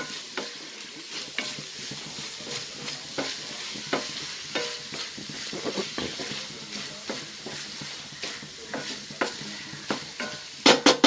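Banana flower stir-fry with grated coconut being stirred in a sizzling pan, a spoon scraping in repeated irregular strokes over a constant close frying hiss, with no talking.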